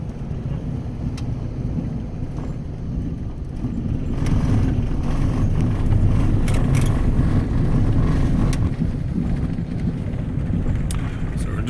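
A car rolls along forest roads in the Wenatchee National Forest near Lake Wenatchee, a steady loud rumble of engine and tire noise with wind buffeting and occasional knocks from the rough surface.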